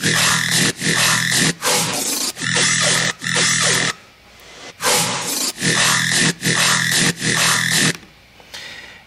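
Heavy electronic bass synths and wobbly, wompy sounds play together in a dense groove for a dubstep tune, loud and pulsing in repeated gated bursts with brief gaps.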